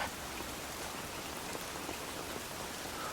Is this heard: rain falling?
yes